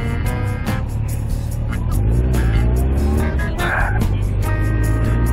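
A car pulls away from an intersection on a mountain road route through Hakone, its engine revving and whining as it accelerates in a steady, close drone with faint clicks.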